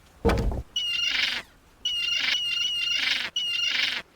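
A seagull squawks in the 1990 adventure game The Secret of Monkey Island, after an initial thud: three loud, raspy, repeated calls in quick succession, each lasting about half a second, with no talking.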